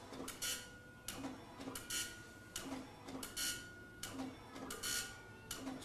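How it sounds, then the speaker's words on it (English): A printer attached to an Apple IIe computer prints, producing repeated bursts of rhythmic mechanical chattering from the print head at steady intervals, fairly close and alone without speech. "You usually have this printer on the floor somewhere so you can feed the paper through it properly."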